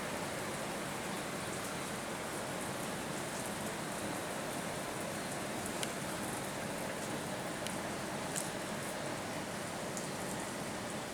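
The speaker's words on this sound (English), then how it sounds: "That rain is unbelievable." Heavy rain falls steadily with a dense, even hiss and faint scattered drop ticks, continuous and close throughout with no voices.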